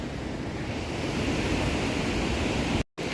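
Mountain runoff streams pour down a fresh landslide scar after a cloudburst above hillside farm fields, a steady broadband rushing roar close by with no talk, cut off abruptly just before the end.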